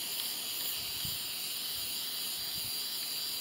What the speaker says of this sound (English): So then you just spray paint the whole thing black.